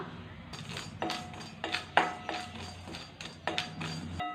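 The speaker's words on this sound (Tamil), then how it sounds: "அடுத்து பட்டையை ஒன்று ரெண்டாக தட்டிட்டு வறுத்து எடுத்துக்கலாம்" Dry cinnamon bark being tapped and broken in two while preparing Chettinad masala powder, giving a series of sharp woody knocks, about eight in four seconds, close and fairly loud over a low background hum.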